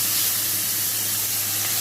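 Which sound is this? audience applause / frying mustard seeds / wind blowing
frying mustard seeds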